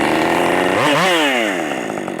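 A Redmax GZ5000 chainsaw revs to a loud, buzzing high idle, its pitch climbing quickly and then easing back as it settles, very close.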